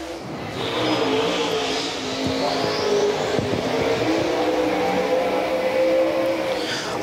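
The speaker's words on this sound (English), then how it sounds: "Looking good, lap number one for Jason Welshen" A race car on a qualifying lap at Volunteer Speedway, its engine roaring and rising in pitch as it passes, with faint tire noise and no talk.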